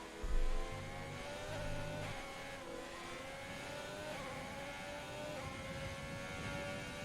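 Racing car engine at Monza in a rain-soaked racing video game, a steady sustained drone with rising, shifting pitch as the car accelerates, loud and continuous with a brief thump at the start and no talk.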